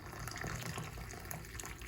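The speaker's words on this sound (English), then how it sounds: "Add on them 500 milliliter of hot water, boiled water, using the kettle" Steady stream of hot water pouring continuously from a kettle into a dish, a full, even splashing rush from start to finish with no voices.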